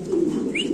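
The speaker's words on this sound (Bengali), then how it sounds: "তো দর্শক এখানে আছে একটা বিশাল বড় সাইজের মুন্ডিয়ান কবুতর" A single brief, close coo from a pigeon at a pigeon farm.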